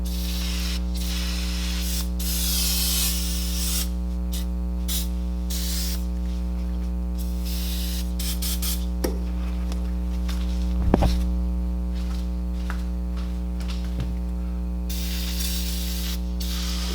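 Lubricant sprays in long hissing bursts and short pauses onto the rusty chain of a 1997 Polaris Trailboss 250, over a constant loud mains-like hum, ending with a sharp click.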